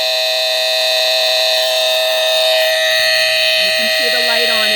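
A vintage Masterguard 300 electronic smoke detector sounds a loud, piercing, continuous alarm tone, steady and close throughout, with faint voice under it near the end.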